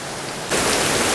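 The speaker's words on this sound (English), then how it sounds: "Not only is it raining, but we got a waterfall here to dodge." Rain falls steadily in the Watkins Glen gorge, its hiss swelling abruptly into a louder, fuller rush of water as a waterfall is approached, with no talk.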